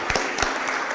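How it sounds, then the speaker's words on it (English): An audience applauds at a civic gathering with dense, steady clapping and a few louder claps that fill the whole second. "Let's give him a round of applause."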